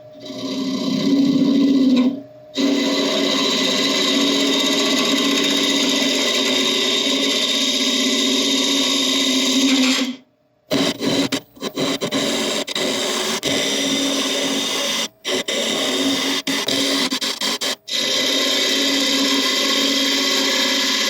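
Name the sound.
wood lathe turning burl with carbide tool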